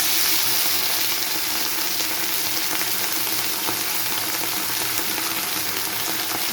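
Okra and potato frying in oil over a panch phoron and green chilli tempering give a steady, dense sizzle, close and even throughout with no pauses.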